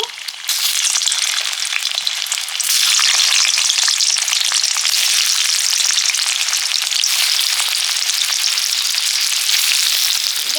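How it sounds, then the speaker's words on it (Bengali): Potatoes fry in hot oil for a crab curry, making a loud, dense, continuous crackling sizzle close up that swells slightly after the first couple of seconds and stays constant, with no speech. "আলুগুলো ভেজে নেব"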